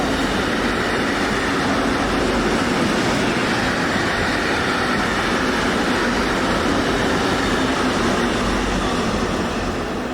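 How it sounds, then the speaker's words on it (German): A EuroCity train running from Milano Centrale to Basel SBB on the Gotthard north–south line at Altdorf rumbles steadily past close by, loud and continuous for the whole stretch with a broad roar of wheels and cars. "der Eurocity von Milano Centrale hoch nach Basel SBB"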